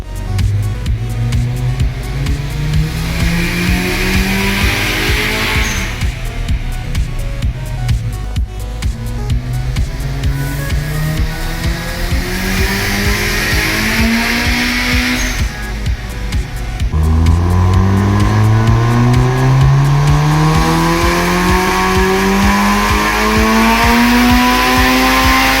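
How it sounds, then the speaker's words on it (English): A car's engine revs up repeatedly on a chassis dyno during an enthusiast dyno day, the loud steady drone rising steadily in pitch across several long sweeps, close and dominant with no talking. "he's done like 4 pulls so far. He's slowly getting up there in RPM."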